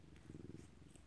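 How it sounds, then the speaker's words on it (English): A domestic cat purring close by, a steady low rumbling purr filling the short moment with no talk over it. "He's just purring."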